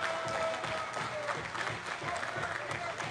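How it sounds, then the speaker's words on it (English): A crowd at an OVW pro wrestling match claps and cheers in a continuous, dense wash of applause beneath a commentator talking over the action. "The crowd trying to will Kal Herro back into this"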